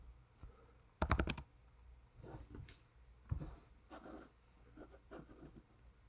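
Typing on a computer keyboard at a command line: a quick cluster of sharp key clicks, then scattered softer keystrokes with pauses, close and quiet in an otherwise still room.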